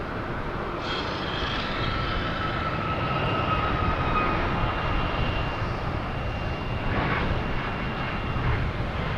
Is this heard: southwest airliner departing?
yes